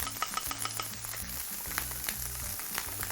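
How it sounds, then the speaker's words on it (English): White onions tossed into a pan of bacon that is just turning crispy, producing a busy sizzle with quick crackles and scraping stir sounds close by. "right at the point where your bacon is just beginning to get to its crispy stage, proceed to add your white onions"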